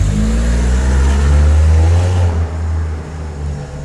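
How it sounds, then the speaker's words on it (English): A 3-litre, roughly 231–239 horsepower BMW X5 engine accelerates from a standstill with a steady, loud drone that swells and then eases as it revs. "that was a bad start, for sure. No acceleration, only 3 liters and 239 horsepower."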